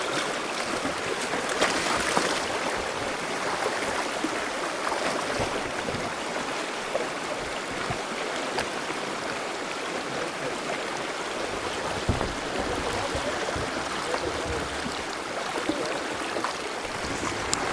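Jean Creek rushing in pouring rain in the back country, a steady broadband wash of flowing water and rainfall, close and continuous with occasional small splashes.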